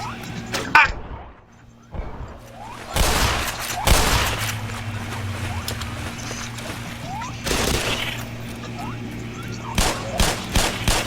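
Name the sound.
gunfire from a video game (Black Mesa)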